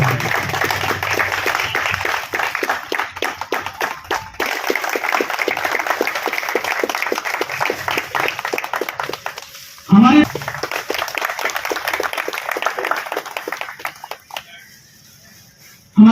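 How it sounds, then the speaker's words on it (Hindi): Applause and clapping from a gathered crowd at the ribbon-cutting inauguration of a CCTV room at a police station on Republic Day, mixed with voices and crowd noise, with a brief louder burst near the end. "तालियां बजती रहें।"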